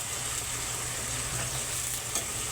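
Chicken adobo in a pan, cooking down in its sauce as it starts to fry: a steady close sizzle and bubbling hiss with faint stirring, no talk.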